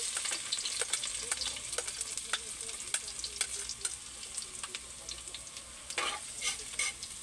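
Garlic fries in a pan with a continuous bright sizzle and frequent sharp clicks of stirring, close and fairly quiet, with no voices over it.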